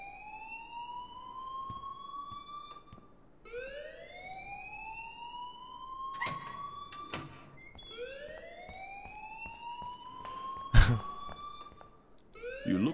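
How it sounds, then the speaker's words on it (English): Blaring alarm in the video game Life Is Strange, a loud repeating siren whoop rising in pitch every few seconds, with short electronic bursts and clicks between cycles. "please turn off that alarm"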